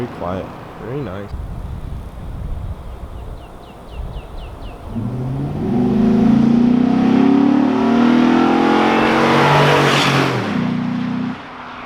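A Ford Raptor pickup truck fitted with a Corsa exhaust idles and then revs hard, a loud, deep, sustained engine roar that swells and holds for several seconds before easing off, heard from outside after a brief voice at the start.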